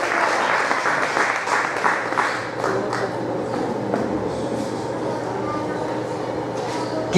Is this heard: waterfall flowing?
no